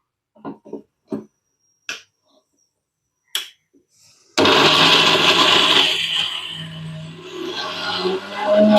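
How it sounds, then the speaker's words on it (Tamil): A few sharp clicks and taps come first, then a blender kicks on loudly, grinding coconut steadily and shifting in pitch as it chews through the contents. "தேங்காய் வந்து நம்ம அரைச்சி எடுத்துக்கலாங்க"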